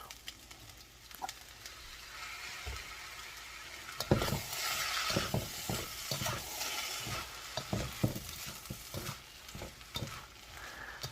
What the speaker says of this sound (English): Usually run the soy sauce around the outside of the pan so that it can actually soak down and around into the rest of the ingredients